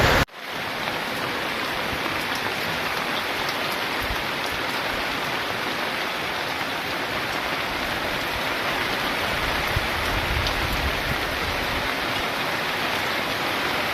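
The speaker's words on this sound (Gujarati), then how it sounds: "અત્યારે વરસાદ ચાલુ છે અહીંયા." Heavy monsoon rain pours steadily over flooded farm fields, a dense, constant hiss of water that stays loud and even throughout, with no voices over it.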